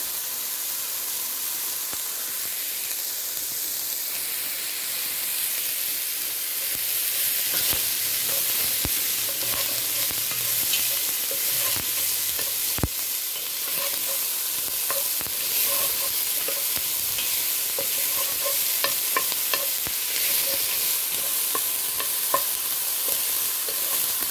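Onions gently sautéing over lowered heat until translucent for a chicken fricassee with cream and white wine, heard as a continuous close sizzle and hiss, with occasional spoon scrapes and taps against the pan.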